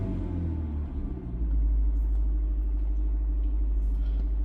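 Rough, uneven idle from a 2014 Honda Grace Hybrid engine with misfires, a steady low rumble that deepens and swells after a brief dip, close and continuous with no talking.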